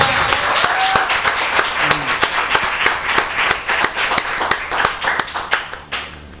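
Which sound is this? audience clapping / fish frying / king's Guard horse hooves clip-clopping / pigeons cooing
audience clapping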